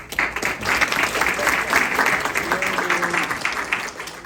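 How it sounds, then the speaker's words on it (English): Audience applause at a borough mayor and council reorganization meeting, steady loud clapping from a crowd in a hall that carries on without pause for several seconds. "round of applause, please"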